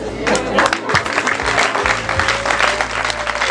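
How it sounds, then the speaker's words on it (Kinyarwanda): A wedding crowd claps loudly and continuously, dense rapid applause close by, with some voices over it. "Amashyi menshi cyane arakoze rwose"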